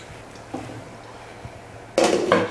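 A lid is set onto a cooking pot of home-cooked South Indian food, landing with a sudden metallic clank and brief rattle near the end after mostly quiet kitchen background.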